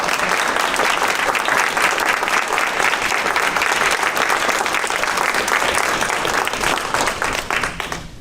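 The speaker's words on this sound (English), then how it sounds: "How about another round of applause?" Audience applause at a board meeting, loud sustained clapping from a room full of people that holds steady before tapering off at the end.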